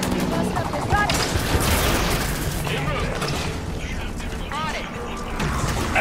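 Dense, continuous gunfire and explosions from the Halo 5: Guardians video game fill the whole stretch, with game voices shouting over the battle.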